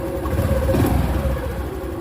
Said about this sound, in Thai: เครื่องนี้เงียบนะครับผมฮะ